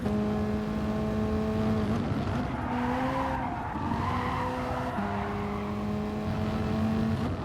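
A race car in a racing video game runs flat out, its engine holding a loud steady whine with a few quick gear shifts and tire scrub throughout.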